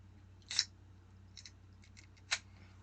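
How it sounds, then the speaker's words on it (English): A short hiss-like burst of a Dr. Thunder soda can opening, then a few faint crackles and a second sharp hiss, in a quiet room. "Listen to that sizzle"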